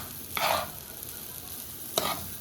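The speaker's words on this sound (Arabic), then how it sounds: "زي ما انتوا شايفين بنقلب الاول كل حاجه قبل ما نحط الميه" Rice and vermicelli are stirred in a pot before water is added, giving two short scraping, sizzling strokes about a second and a half apart over a faint low hiss, with no voices.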